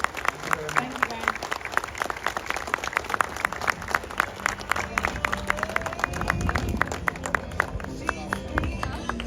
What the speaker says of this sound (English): big round of applause for our guests